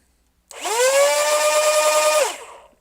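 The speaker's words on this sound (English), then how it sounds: "that top flywheel is wobbling really badly" Flywheels of a modified Nerf Ghost Ops Evader blaster, the top one wobbling, spin up sharply into a loud, steady, close whine that holds for about two seconds and then winds down, heard alone without speech.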